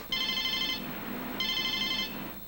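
A cell phone rings with two electronic trilling bursts about a second apart, moderately loud over quiet room tone.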